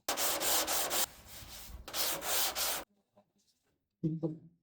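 Rough, steady scraping strokes of a sanding block on body filler on a 1973 Dodge Dart, loud and close, in long passes with brief pauses, then quiet handling and a short clunk.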